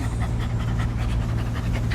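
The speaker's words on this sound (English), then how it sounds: "Why are you barking at her?" A dog pants rapidly and rhythmically up close, a steady run of quick breaths with no clear barks.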